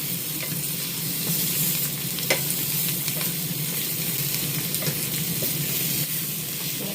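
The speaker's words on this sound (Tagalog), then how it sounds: "Piniprito ko muna yung pork" Pork fries in a pan with a loud, steady sizzle and hiss, marked by scattered pops and light stirring clicks, with no one talking.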